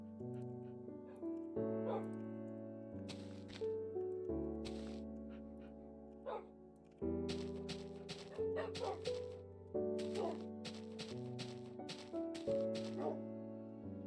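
Video game dogs bark and yip repeatedly in short bursts over a steady, droning musical backdrop.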